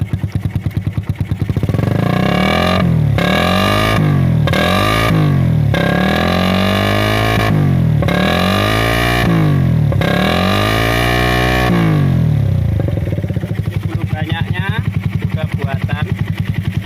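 A Suzuki Satria FU motorcycle with a loud custom exhaust built from 3/4-inch iron pipe and a PE28 carburetor revs hard in repeated rising and falling bursts, close and loud, then settles into a rough idle.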